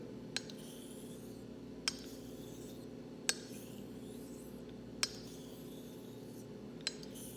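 A Filarmonica 13 Doble Temple straight razor is finish-honed on an Arkansas stone: a faint, steady rasping rub with soft clicks, roughly one every one and a half seconds, in a quiet room.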